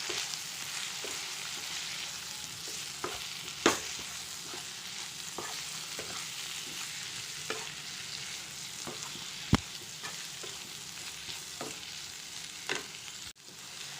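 Vegetable curry masala with a little turmeric sizzles in a pan through a long quiet stretch, punctuated by occasional sharp clacks of a spoon stirring against the pan.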